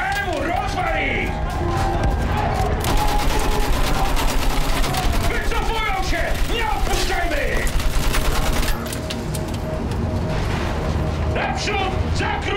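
Sustained machine gun fire in the Battlefield 1 video game, rapid bursts with booming explosions in a loud battle, while game characters shout over the din.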